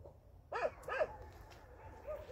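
A dog on a walk during obedience training, one that pulls on the leash and ignores commands, gives two sharp barks in quick succession, followed by a softer, fainter whimper.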